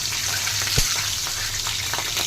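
Green chillies frying in a pan for a pumpkin curry give a steady, close sizzle with light crackles and a faint low hum underneath, and no voices.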